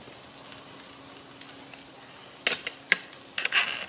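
A frozen Chicago Steak Company strip steak searing in a hot pan, a quiet low sizzle that swells into a few louder bursts of crackling toward the end, close with no talking.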